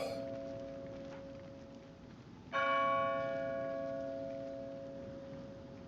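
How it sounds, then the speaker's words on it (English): Church bells in the Splinter Cell stealth game ring in a quiet scene, a sustained tolling hum that is struck again loudly midway and then decays slowly with lingering overtones. "The bells just finally stopped."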